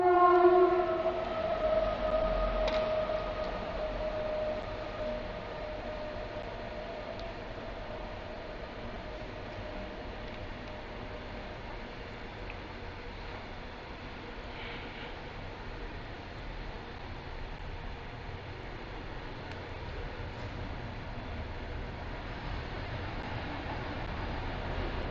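A train passes nearby. Tonal horn-like notes sound at the start, then a broad, steady rumble and rush hold for about twenty-five seconds, loud at first and easing slightly.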